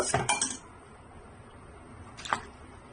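Soup ingredients such as pork bones and gourd going into a pot of boiling water, with two quick clinks of metal and crockery at the start and another clink later, over a quiet background.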